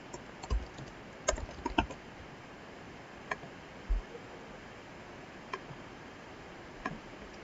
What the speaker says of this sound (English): let's just type in some text.